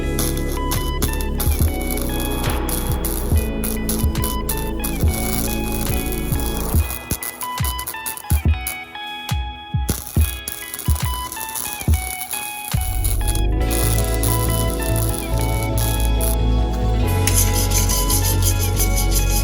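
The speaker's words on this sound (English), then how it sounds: "so now let's get it welded up." A Lincoln Weld Pak HD wire-feed welder lays a bead on thin steel, giving a loud, steady, harsh crackling buzz that breaks midway into scattered pops and clicks, then resumes continuously to the end, with no talking.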